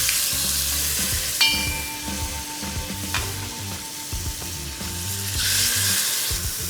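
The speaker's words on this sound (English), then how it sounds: "chicken को हम पहले अच्छी तरह sear कर देते हैं" Chicken sears in a hot pan ahead of a Dak Bungalow curry, hissing and spitting loudly and steadily. A few metal clinks and scrapes come from stirring, and the sizzle swells again near the end, with no voices.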